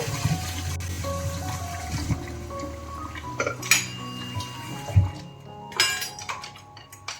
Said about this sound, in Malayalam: ഈ സ്പൂൺ കൊണ്ടൊന്നിങ്ങനെ ഇളക്കി കൊടുക്കാം.